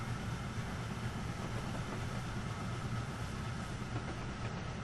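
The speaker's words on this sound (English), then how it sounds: "here we cross over Kelly Run as it flows into the Monongahela River" A steam train crosses Kelly Run Bridge near the Monongahela River in Train Simulator, giving a steady, low rumbling roar of rolling wheels and engine with no distinct beats, continuous and moderately quiet.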